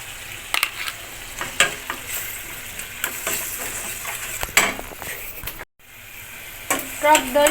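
Katla fish curry with yogurt and salt sautés in a pan, a sustained sizzle broken by repeated scrapes and knocks of a spatula stirring, with a short pause before the stirring resumes.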